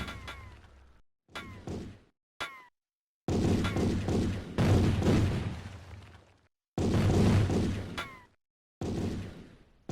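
Tanks fire and blow up in the Amiga top-down action game Tanks Furry, with bursts of booming gunfire and explosions separated by short silences, some bursts sustained for a second or two, alongside whistling shell effects.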